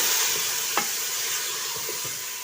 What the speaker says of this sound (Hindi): अब हम डालने लगे हैं अपने चने।